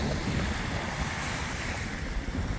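Lake waves on Mille Lacs, Minnesota, wash steadily against the shore with a continuous rushing surf and light wind buffeting the microphone, fairly close and even, with no voices.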